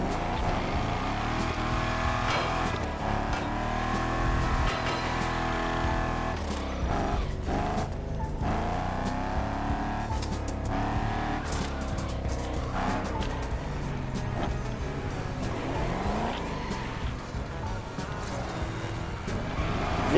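Car engine and tyres from The Crew racing game, a continuous loud revving drive with shifting engine pitch and occasional slides from a low-traction car, with music or game sound layered underneath.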